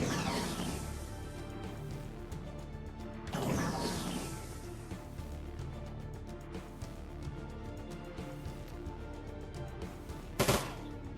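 Gunfire in the Shadowrun video game, a steady spray of shots across the whole clip, with heavier bursts near the start and a sharp crack near the end, all fairly quiet.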